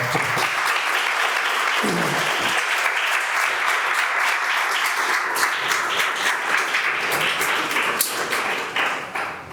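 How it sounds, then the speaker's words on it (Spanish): Loud sustained applause from a seated audience at a book presentation held by a cultural association, dense clapping running almost ten seconds before thinning toward the end. "Pues podéis aplaudir"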